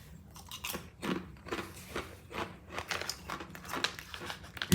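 Crisp Japanese 7-Eleven sweet potato snack with butter and salt being bitten and chewed close up, a run of sharp irregular crunches and crinkles with no talking.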